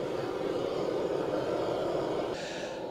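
An old tractor whose engine head must be heated before starting runs with a steady, even drone, a continuous low rumble at moderate distance with no talking.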